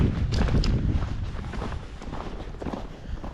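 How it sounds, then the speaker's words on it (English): Wind buffets the microphone in a steady low rumble, loudest at the start and easing slightly but never stopping, with no voices. "I apologize for the wind. It's a little bit windy up here."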